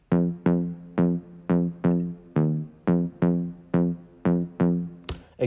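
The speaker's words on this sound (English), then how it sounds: "Again, kind of like saw wave bass on this" A detuned saw-wave bass synth layer for a dancefloor drum and bass track plays about eleven punchy, buzzy notes in an even, driving rhythm. Each note decays quickly, and a short noisy burst closes the phrase.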